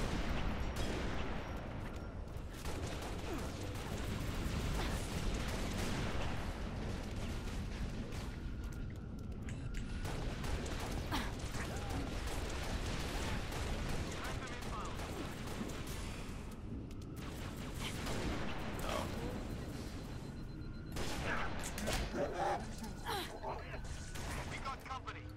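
Turrets in Halo Reach fire continuous, dense volleys, with steady gunfire and booming impacts forming a loud, unbroken wall of combat noise under a talking voice.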